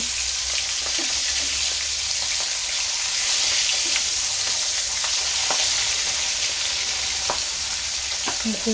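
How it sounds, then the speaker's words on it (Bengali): Rohu fish pieces fry in hot oil in a pan, a steady loud sizzle with occasional pops and light scraping as the pieces are turned, no talking. "সব মাছগুলো উল্টিয়ে দিচ্ছি।"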